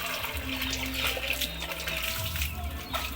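Water splashes and pours steadily as it is drawn up from a household well, a continuous close watery wash with low thumps of a bucket or container underneath.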